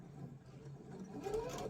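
Sewing machine stitching a zipper onto a bag, a soft, low steady hum close by with a brief rise near the end, no voices.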